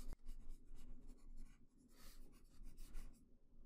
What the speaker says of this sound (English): And then I can go ahead and sketch in the foot.